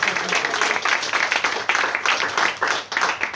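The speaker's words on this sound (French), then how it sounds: "si on est dans les applaudissements" Applause from a literary conference audience, a dense, steady wash of many hands clapping that swells and dips slightly across its length, with no talk over it.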